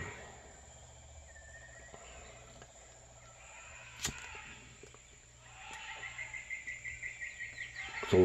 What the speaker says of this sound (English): It takes place in the jungle. That's why we got the jungle sound effects going.